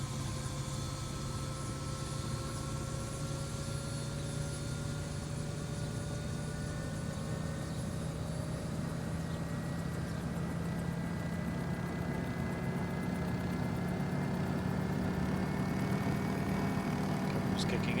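Bell 407 helicopter engine in X-Plane 12 throttling up, a steady loud turbine whine with rising tonal harmonics over a constant rumbling drone, continuous throughout with no talk.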